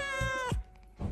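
A single close, drawn-out cat meow with a rising then falling pitch, followed by a brief soft thump and quiet.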